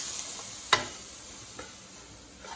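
Flour being swished around and cooked in a pan for potato soup, a soft, steady sizzle under a high hiss with a couple of light scraping swishes, close by and with no talk.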